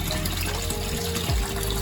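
Water pours steadily into a home aquarium fish tank, a continuous close rushing gush with a low pump-like hum underneath and no voices.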